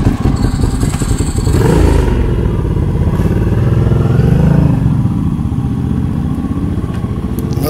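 Ducati motorcycle engine revving close by, a loud, rough, throaty roar that swells and rises in pitch, then holds at a steady rumbling drone.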